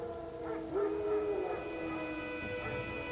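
Wild dogs howl in The Witcher 3 video game, a wavering mid-pitched howl rising and holding over a steady background drone, with softer yips and whines trailing off, heard alone with no talking.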